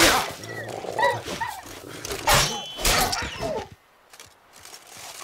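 Dogs snarl and bark during a fight in the video game The Witcher 3: Wild Hunt, loud and close with clashing hits, then the noise drops to a quiet tail.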